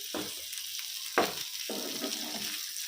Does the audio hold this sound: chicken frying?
yes